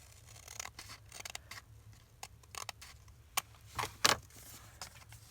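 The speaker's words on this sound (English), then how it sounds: "I'm going to cut it at the line on both sides." Scissors cut through ledger paper in a quiet room, with a series of faint close snips and paper rustles followed by a couple of louder crisp cuts near the end.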